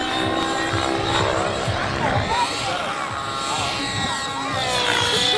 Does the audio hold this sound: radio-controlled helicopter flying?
yes